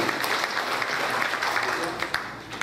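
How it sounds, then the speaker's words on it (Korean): An audience at a Korean community gathering in Atlanta applauds, a busy mix of many hands clapping at moderate volume with a few louder claps near the end and voices murmuring underneath. "저 우리 회장님 좀 박수로 맞아주십시오"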